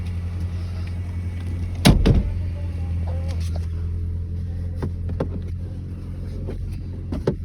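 A 2002 Toyota Celica's power window motor whirs briefly, heard over a steady engine idle hum, with a sharp clunk near the start and a few lighter clicks and taps after.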